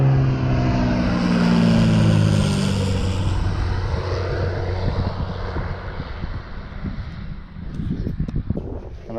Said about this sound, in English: airplanes just flying in right over you.